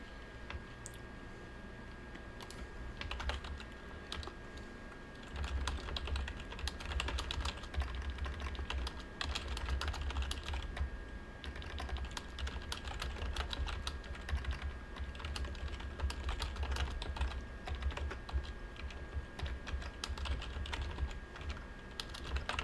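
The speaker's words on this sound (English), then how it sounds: "Sorry if you hear my clacking keyboard." Steady clacking of a computer keyboard being typed on throughout, dense irregular keystrokes close to the mic over a low background hum, no speech.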